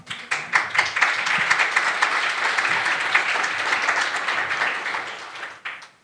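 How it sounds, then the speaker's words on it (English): A conference audience at a Connecting EU event gives a round of applause for a speaker, Ivana: a few scattered claps swell into sustained, even clapping, then thin out and stop near the end. "One more applause for Ivana."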